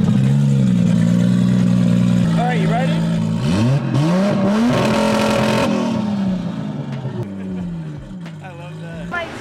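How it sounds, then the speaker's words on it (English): A JDM car's engine idles, then revs up and down in several rising and falling sweeps before settling back, heard up close with a person speaking briefly over it. "I'm going to turn it back on for him and give it a little rev."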